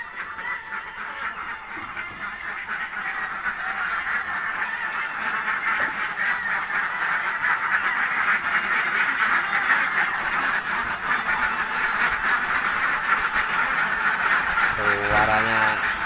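A dense flock of laying ducks quacking and honking continuously at feeding time, loud and close, with people talking over the din.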